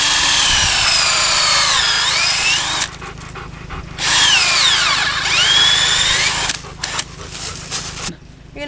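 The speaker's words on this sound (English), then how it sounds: "You're going to drill in probably about an inch and a quarter." A power drill with a 3/8 to 7/16 inch bit bores a tap hole into a maple tree. The loud whining runs rise and fall in pitch, with two long bursts broken by short stops and starts.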